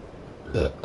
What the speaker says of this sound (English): Oh, excuse me, I honest to goodness do apologize for the constant burps